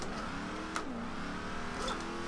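A car engine in Forza Horizon 2 holds a steady drone while drifting sideways, with a brief pitch dip midway as it bogs down, then carries on under faint tire noise.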